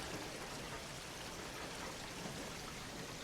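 Rain falls steadily in a Vancouver Island rainforest, a faint, even hiss of drops pattering on surfaces with no voices.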